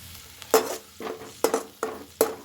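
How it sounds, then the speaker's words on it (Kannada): Garlic and green chilli paste frying in a pan for palak palya, stirred in four or five distinct scraping strokes over a low, steady sizzle, close and with no talk. "ಬೆಳ್ಳುಳ್ಳಿನೂ ಮತ್ತು ಹಸಿಮೆಣಸಿನ್ಕಾಯಿ ಪೇಸ್ಟ್ ಹಾಕಿದ್ದೀನಿ. ಸ್ವಲ್ಪ ಹಸಿ ವಾಸನೆ ಹೋಗೋ ತನಕ ಫ್ರೈ ಮಾಡ್ಕೊಳ್ಳೋಣ."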